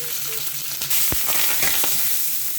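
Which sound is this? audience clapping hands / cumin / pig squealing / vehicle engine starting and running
cumin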